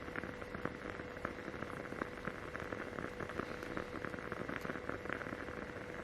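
Steady heavy rain pours outside, a dense, even hiss with scattered sharper drops tapping on a surface, continuous and fairly close with no voices.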